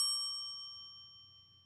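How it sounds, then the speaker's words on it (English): A single bell strike at a baseball game gives a clear, bright metallic ding that rings out and slowly decays, heard alone. "Wouldn't be surprised if you hear this bell quite a bit as the pitches go by."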